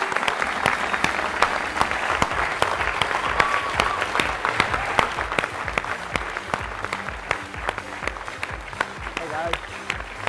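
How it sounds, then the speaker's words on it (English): A tech conference keynote crowd applauds mobile app developers, a dense sustained clapping with sharp individual claps standing out, while people talk and call out over it throughout. "please join us with a round of applause for our mobile innovators"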